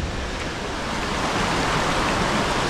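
Bopath Falls in Sri Lanka roars in the rain as a dense, steady wash of rushing water, loud and close, with no voices over it.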